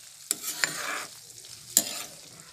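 Chillies frying in a pan for a spicy pickle, with a few sharp scraping stirs over a soft, quiet sizzle in a short burst.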